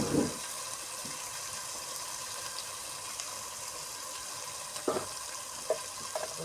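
Onion paste with ginger-garlic paste frying in a pan makes a quiet, even sizzle, with a few soft stirring scrapes and taps near the start and end.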